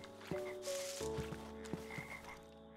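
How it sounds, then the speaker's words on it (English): Frogs in the Minecraft video game croak in a steady, overlapping chorus, with repeated ribbed calls standing out against a constant background of ambient game sound. "Oh, those are frogs."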